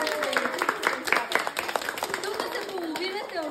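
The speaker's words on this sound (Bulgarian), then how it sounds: "Заслужават ли аплодисменти?" A crowd at a summer academy gathering applauds for its students, with a burst of clapping that rises and fades while voices call out and speak over it.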